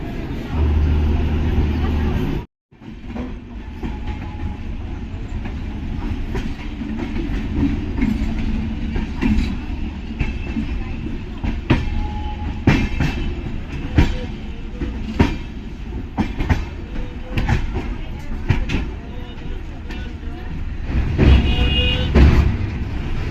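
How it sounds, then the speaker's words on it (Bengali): Kanchankanya Express, train 13419 from Sealdah to Siliguri, rumbles steadily along with a continuous loud roar and scattered clicks and clatters from the rails, and one brief dropout near the start. "ট্রেন 13419 কাঞ্চনকন্যা এক্সপ্রেস শিয়ালদা থেকে শিলিগুড়ির জন্য যাওয়ার জন্য রেডি"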